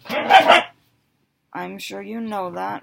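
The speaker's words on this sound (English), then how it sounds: "Please excuse my dogs. They are huskies and playing." Playful huskies let out a brief burst of barking and yipping, then go quiet before someone speaks close by.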